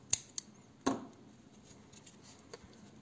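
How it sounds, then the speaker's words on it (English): Scissors snip yarn ends on a crocheted granny square, a few sharp close clicks early on followed by faint soft handling, no voice. "Cut these yarn ends"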